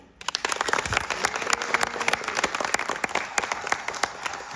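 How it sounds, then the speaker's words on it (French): A stage audience at a live performing-arts show applauds to welcome a guest, with dense, loud clapping that starts abruptly and holds steady throughout. "Je vous demande donc d'accueillir, sous un tonnerre d'applaudissements, Monsieur Charles Perrault"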